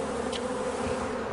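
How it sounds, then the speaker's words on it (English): A steady, close insect buzz of a honeybee swarm clustered on a tree branch, many bees droning together, continuous and even with no other sounds. "The buzzing bunch ended up hanging from a tree branch"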